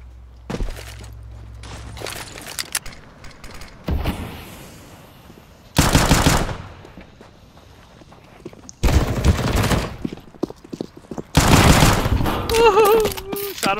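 Gunfire in the video game CSGO Danger Zone, with loud bursts of automatic fire in several separate volleys, some faint scattered shots between them, and a brief voice near the end.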